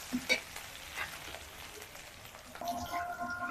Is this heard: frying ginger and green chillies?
yes